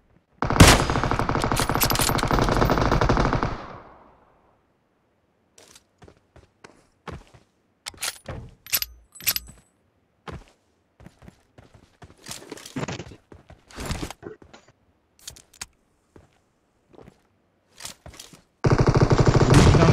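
Gunfire in a video game car chase: a loud burst of rapid automatic fire opens, then scattered single shots and clattering impacts crackle intermittently before another dense burst near the end.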